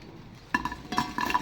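Crispy fried potato snacks tipped onto a plate, a quiet start followed by two brief bursts of light crisp clattering and clinking as the pieces land.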